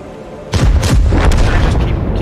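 A Type 5 heavy tank's cannon booms in World of Tanks battle, a sudden loud blast at about half a second followed by sustained rumbling and further crackling shots, with no talk.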